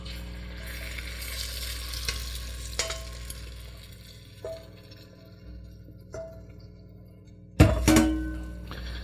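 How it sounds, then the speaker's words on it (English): Eggs frying in hot oil in a pan for a Spanish omelet, a soft continuous sizzle with a few light taps, then a sudden loud burst of crackling as more liquid hits the oil, close and without talking. "Once the oil is hot, we're putting the eggs into the pan"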